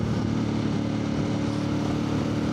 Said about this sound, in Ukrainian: А тепер я скину передачу вниз. Бачите, на тисячу майже піднялися ще більше.